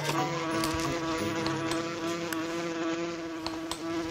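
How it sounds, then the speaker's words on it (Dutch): A wasp buzzes close by in a park, a steady, high droning hum that holds with slight wavers throughout, with no voices over it. "Een wesp, denk ik."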